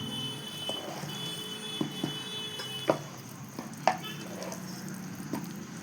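Sweet pongal (sakkarai pongal) being stirred in a pan, a low continuous bubbling sizzle with a few scattered clicks of the spoon against the pan, close and moderate, no talk.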